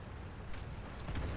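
An HE shell fired by a T49's gun explodes during a World of Tanks battle, a dense low boom. It sits inside steady rumbling game ambience and ends in a heavier burst toward the end.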